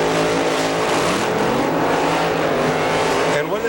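An alcohol funny car at a drag strip roars loudly and steadily as it races down the track, a harsh, high-powered engine scream that stays strong to the end and then drops away slightly.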